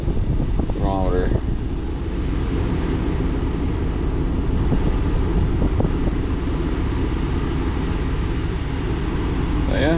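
A car's air conditioning vent blows a steady, broad rush of air while the engine idles, filling the whole stretch at close range, with a brief voice near the start and end.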